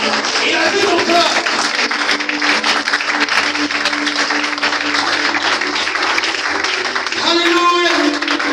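Church congregation applauding and cheering in acclamation to God during a worship service, a loud, dense wash of clapping and voices that runs the whole time without letting up.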